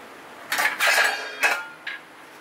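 A metal pot of water is set down on the stove for making idli, giving a few sharp clanks and scrapes of cookware in quick succession, close and fairly loud in a quiet kitchen.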